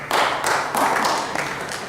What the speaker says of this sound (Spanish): Bueno, aplaudir, gloria al Señor